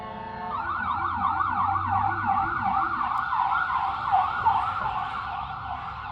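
Emergency vehicle sirens wail continuously, several overlapping rapid warbling tones sweeping up and down, loud and steady throughout with traffic rumble beneath and no talk.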